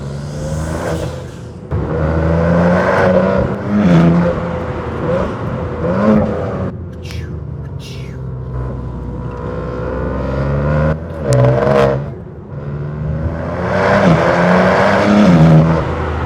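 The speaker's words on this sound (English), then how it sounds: "Now you can hear the intake from the inside." A tuned 707 hp BMW M4 Competition's engine intake drones and swells from inside the cabin with the exhaust closed, rising and falling in pitch as the car accelerates and eases off repeatedly.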